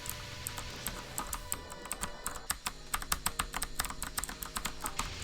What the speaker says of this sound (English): Do you hear the clickety-clack of my keyboard?